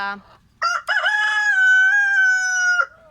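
A Rhode Island Red rooster on a farm gives one long, loud crow close by, a rising start and a sustained, strongly harmonic call, after a few brief clucks.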